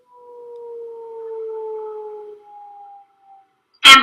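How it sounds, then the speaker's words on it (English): An ambulance siren wails past with a steady falling pitch and fades away over a few seconds, followed by a brief sharp noise at the very end. No one speaks. "Ambulance."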